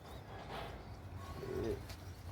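Pigeons, including young ones, coo softly in a close, enclosed room, with a low rumbling background and a few faint chirps mixed in.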